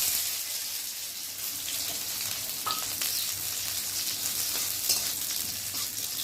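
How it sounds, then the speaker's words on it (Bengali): Cashews and raisins fry in ghee with cardamom, cinnamon and cloves for basanti pulao, giving a steady, close hiss of sizzling fat with faint stirring scrapes throughout and no talk. "এবার কাজু কিশমিশ ওর সাথে দিয়ে একটু ভালো করে ভেজে নেব।"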